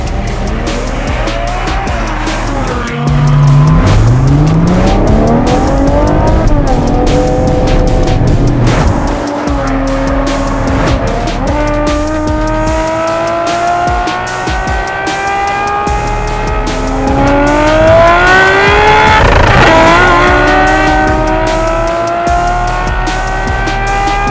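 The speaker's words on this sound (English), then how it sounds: "It is an 812 Superfast." A 2019 Ferrari 812 Superfast driving hard, its engine note rising and falling through gear changes with repeated tire squeals and skids, loud and close with no talk.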